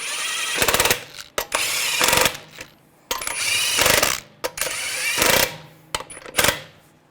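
An impact wrench snugging down wheel lug nuts on a 2013-2015 Chevrolet Malibu, running in several loud, close rattling bursts separated by short pauses.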